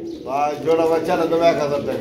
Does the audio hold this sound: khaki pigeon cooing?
yes